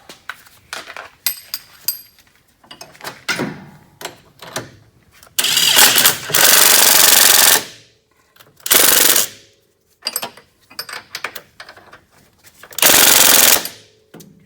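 A pneumatic impact wrench hammers on rear suspension bolts while a Z32 rear knuckle is fitted to a 240SX, firing in several loud rattling bursts, some short and some lasting a couple of seconds, with quiet gaps between.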